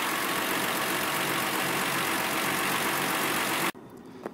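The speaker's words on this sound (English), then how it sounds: "you can hear the engine is very, very strong" A 1924 Packard Six engine idles, still a little cold, with a steady, even mechanical drone heard close up and alone; it cuts off abruptly near the end, leaving a quieter background.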